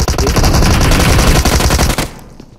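Rapid automatic gunfire from a mobile shooting game, played on a POCO X3 Pro, comes as a loud, dense burst of machine-gun shots lasting about two seconds before it cuts off abruptly.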